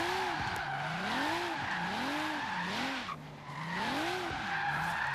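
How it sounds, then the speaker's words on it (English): A Volvo 850R drifts in Forza Horizon 3, tires squealing in repeated wavering arcs over a steady engine drone, the skids rising and falling several times in a loud, continuous run. "Let's go see if we can actually do some drifting with it."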